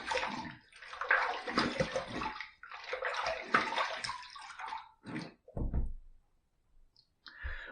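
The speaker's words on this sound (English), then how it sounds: "Let's rinse." Running water from a tap splashes loudly while a bronze open comb safety razor is rinsed between shaving passes, in several bursts with short clicks and taps near the end.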